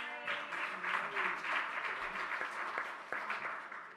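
Audience applause at a Sunday service, steady clapping from a crowd that swells and holds for about four seconds at moderate level, with no voices over it.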